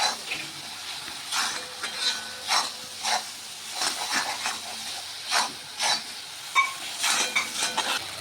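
Spiced curry being stirred and fried in a pan, with soft scraping strokes of a spoon against the pan bottom in an irregular rhythm over a steady low sizzle, close and moderately quiet.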